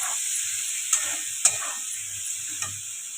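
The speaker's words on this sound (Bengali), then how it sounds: "এই কড়াইশুটিটা দিয়ে দিলাম" Green peas tipped into a pan of hot oil spiced with coriander powder and turmeric for a potato and pea curry sizzle with a steady bright hiss, punctuated by a few sharp clicks of stirring.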